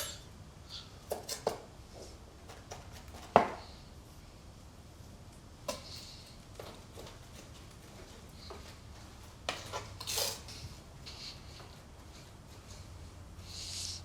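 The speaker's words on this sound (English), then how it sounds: "So I'm going to chop or to smash a garlic, a bit of salt on the board, garlic there" Garlic being smashed and chopped with a pinch of salt on a board, a few sharp knocks and short scraping cuts spread out over quiet kitchen background, one louder thud standing out.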